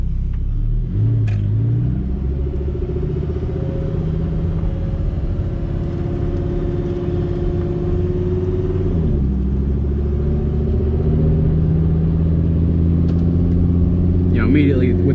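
Lamborghini Huracán Performante pulling away in manual mode with its dual-clutch transmission, a low engine rumble building steadily with gear changes, heard from inside the cabin with someone talking over it.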